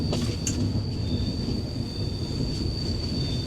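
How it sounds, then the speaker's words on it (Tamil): An all-AC-coach special passenger train runs from Tambaram to Trivandrum near the Tamil Nadu–Kerala border, heard from inside as a steady, loud rumble of wheels on rail with a sustained high metallic squeal throughout. "தாம்பரத்துலேருந்து ட்ரிவாண்ட்ரம் வரைக்கும் போகிற ஒரு ஸ்பெஷல் ட்ரெயின்."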